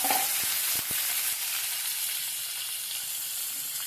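Onions, tomatoes, garlic and ginger sauté in about two spoons of oil in a pan over low heat, giving a continuous soft sizzle with a few light stirring clinks near the start.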